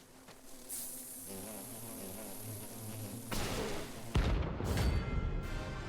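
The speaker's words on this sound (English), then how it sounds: "There's a bunch of bees." A swarm of giant bees in Final Fantasy 16 buzzes with a droning, wavering hum, then heavy booming combat impacts take over, moderately loud with no speech.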